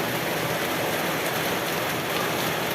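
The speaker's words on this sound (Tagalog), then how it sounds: "Umuulan na. Hindi na po tumipigil yung ulan." Steady, dense roar of heavy rain pouring down in Pasig, Manila, constant and loud with no voices.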